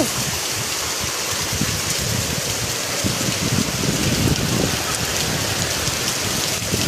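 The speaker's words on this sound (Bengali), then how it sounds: "দেখো এত হাওয়া দিচ্ছে, গেটের এই পর্যন্ত জল চলে আসছে।" Heavy rain pours steadily and loudly in a storm, a dense continuous hiss with gusty low rumbles of wind buffeting throughout, water pooling up to a gate.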